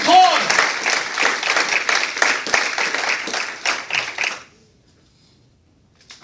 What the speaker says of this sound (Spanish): Den un aplauso a su rey